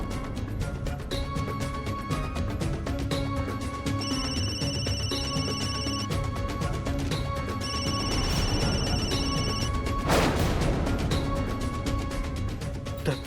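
A telephone rings in a home, its electronic bell tone repeating in steady bursts over a constant room hum, with no one speaking.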